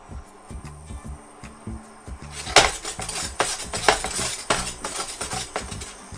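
Salted caramel being stirred in a pan: repeated metallic clinks and scrapes of a utensil against the pan, sparse at first, then busier and louder in an uneven rhythm.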